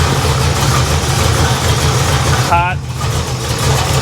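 A supercharged 1955 Chevrolet Nomad engine idles in a steady, close, low rumble, its loose exhaust rattling underneath, while a person speaks briefly over it.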